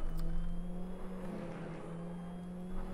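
A SEAT Leon hums along in Assetto Corsa, its engine holding a steady mid-range drone with a faint whine on top, no sharp revving, as the car slows for a corner.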